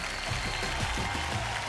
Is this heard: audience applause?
yes